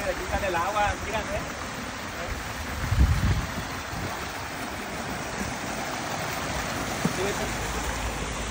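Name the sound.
water flowing out at a pool slide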